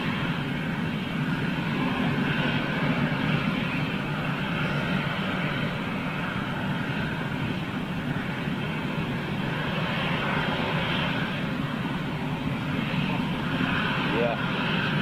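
A big jet airliner departs, its engines roaring as a broad, steady rumble that holds loud and unbroken throughout, with people talking over it.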